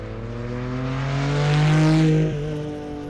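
A Porsche 911R on its first shakedown at the Silverstone test track drives close by with a loud, steady engine drone. The note swells to a peak, then drops sharply as the car passes or lifts off.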